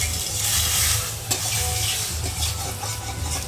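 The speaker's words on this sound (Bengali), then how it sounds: "এই যে পিঠে ভাজা চলছে" Pitha rice cakes frying in oil with turmeric and cumin: a close, steady sizzle over a low hum, with a brief sharp stirring click partway through.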